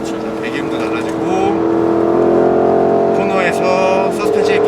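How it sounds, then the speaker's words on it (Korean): A Porsche sports car in sport mode on a circuit, its exhaust note a loud, sustained engine drone that rises in pitch as it accelerates, with someone talking over it. "스포츠 모드로 이미 배기음이 달라집니다"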